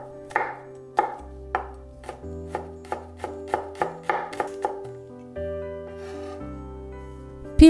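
A kitchen knife chopping a peeled garlic clove on a cutting board, about a dozen crisp, evenly spaced taps that quicken in the middle, close and clear over soft background music.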